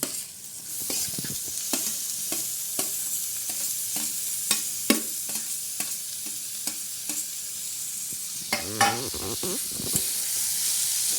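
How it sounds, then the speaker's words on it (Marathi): Chopped tomatoes sauté in a hot pan with ginger-garlic paste for a spicy Malvani dried-shrimp dish, giving a steady sizzle broken by repeated scrapes and clinks of a spoon stirring, close and fairly loud. "टॅमॅटो चांगले परतून घ्यायचे."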